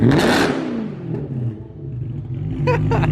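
A BMW M3 engine revs up loudly after a transmission repair, rising then fading into a throaty idle rumble, with a few sharp clatters near the end.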